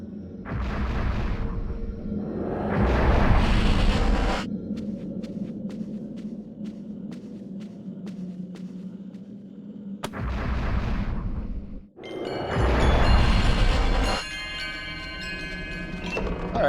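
Tanks in the video game Eternal Darkness fire heavy booming artillery shots, two bursts of deep rumbling blasts separated by a quieter stretch of rhythmic metallic ticking, loud and close.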